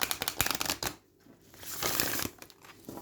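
Crisp riffling bursts of an oracle card deck being shuffled, a rapid flutter, a brief pause, then another run of flicking cards close up.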